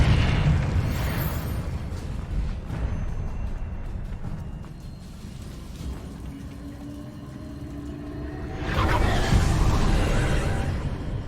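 Confringo blasting spells explode in Hogwarts Legacy on PS5, loud booming bursts over a dense, rumbling battle din, with a big blast swelling near the end.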